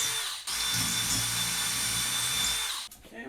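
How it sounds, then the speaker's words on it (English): A small bit bores a pilot hole into a wall stud for a height-adjustable monitor mount. The power drill whines steadily and loudly for about two and a half seconds, with brief quiet before and after. "I'm going to start with a slightly small drill, and that is just to get my pilot hole."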